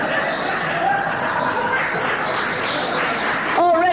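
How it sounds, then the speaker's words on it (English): Studio audience applause and scattered laughter at an Irish comedian's live stand-up show, a steady dense clapping wash filling the room throughout, with a voice cutting in briefly at the very end. "Already applause, and I haven't even told the gag yet."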